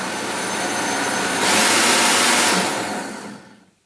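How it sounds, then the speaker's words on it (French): Kitchen blender whirring through oregano, onion, garlic, salt and pepper, a loud steady motor drone that rises sharply in the middle and then winds down to silence. "On va mixer tout ça et on va continuer la préparation"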